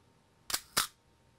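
A camera shutter set to a quarter-second exposure fires as two sharp, close clicks, its blades opening and then snapping shut after a short gap, loud against near silence.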